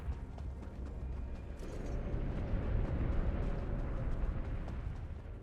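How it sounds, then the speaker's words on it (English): A rumbling explosion in The Elder Scrolls Online swells and holds as a dense, low roar for several seconds, loud and continuous with faint crackling on top. "Oh, and then there's an explosion there."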